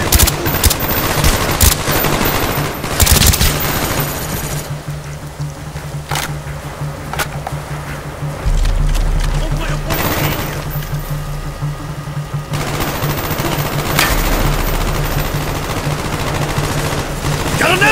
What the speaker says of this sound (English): Got an MG in the tower!